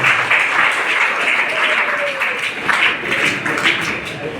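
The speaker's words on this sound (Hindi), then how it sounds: "एक बार ताली बजाइए।" An audience at a children's gathering at Kilkari Bihar Bal Bhavan in Gaya claps in sustained, dense applause for a girl who wins medals, steady and loud throughout the room.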